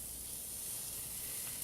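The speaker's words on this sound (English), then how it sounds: "You want to hear the sizzle." Steak searing in a hot pan, a steady broadband sizzle with constant hiss, close and even throughout with no talking.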